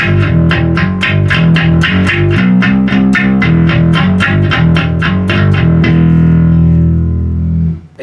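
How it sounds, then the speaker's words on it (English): Bass guitar sent through a Muslady 2.4GHz wireless system into an amplifier with slight distortion, a rapid run of evenly plucked notes played loud and close before ringing out and fading. "it does sound like it's adding a little bit of distortion on the bass sound"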